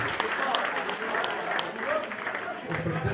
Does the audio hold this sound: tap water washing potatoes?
no